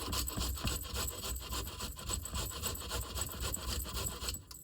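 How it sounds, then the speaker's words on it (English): An unpeeled carrot rasped against a kitchen grater in quick, even back-and-forth strokes, close and fairly quiet, keeping a steady rhythm throughout with no talking. "I'm just going to grate some."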